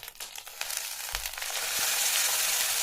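Spices and a fish curry base for katla kalia sizzle and fry steadily in a pan, a dense hissing that swells louder partway through, with a brief stir or clatter near the start and no talk.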